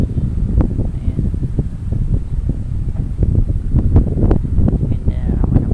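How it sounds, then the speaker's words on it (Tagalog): Gusty wind buffets the microphone outdoors over rice fields on a breezy December day, a rough, uneven rumble with scattered rustling throughout. "ganda naman ang panahon, mahangin-hangin na namin December"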